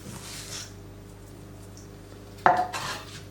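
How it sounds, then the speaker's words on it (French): Cake batter with egg and sugar stirred by a utensil in a bowl, giving a soft scraping hush and then a sudden sharp clink of metal against the bowl followed by a few quieter scrapes. "Et je mélange."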